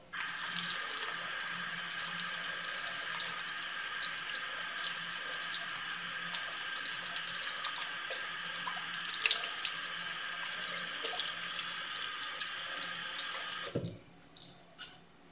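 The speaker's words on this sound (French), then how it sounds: "Comme ceci, et je rince." Water from a tap runs steadily and close while paintbrushes are rinsed under it, a constant hissing splash that stops abruptly near the end, leaving a few faint drips.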